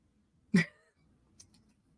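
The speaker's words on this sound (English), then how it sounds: "You belched it." One short belch close by, a single abrupt burst followed by near silence and a faint, brief trailing sound.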